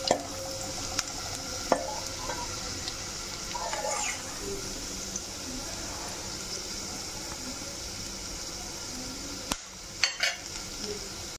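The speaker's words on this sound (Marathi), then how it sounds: "लसूण छान आपल्याला ब्राऊन रंगापर्यंत परतून घ्यायचं आहे" Garlic cloves and curry leaves frying in oil for Maharashtrian masala kadhi, a steady sizzling hiss with a few light clinks and pops, close up.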